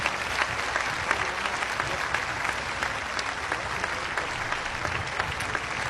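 A large religious congregation applauds loudly and steadily for the Virgin Mary, a dense, even wash of many hands clapping that holds at full strength throughout without pause.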